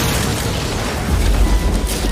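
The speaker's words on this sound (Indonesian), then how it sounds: "salah satu tentara tiba-tiba saja melemparkan sebuah granat dan Fuji pun langsung melompat ke arah grana" A heavy grenade explosion with a deep, rumbling low end swells up partway through and lingers amid broadband noise.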